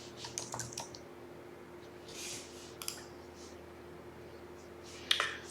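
Keys on a computer keyboard tap in quick irregular bursts, close and fairly quiet, with pauses between clusters and a low steady hum underneath.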